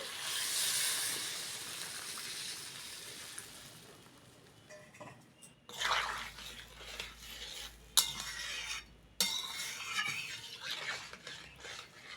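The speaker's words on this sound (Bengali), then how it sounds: "ঝোল ভালোভাবে ফুটে গেছে" Pumpkin, potato and prawn curry broth simmering in a pot, with a steady low hiss of bubbling and a few faint clinks of a utensil against the pan, close and quiet.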